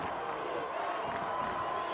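A packed capacity crowd at a high school football state semifinal in Idaho gives off a continuous roar of cheering and chatter, broad and steady, with a commentator's voice over it.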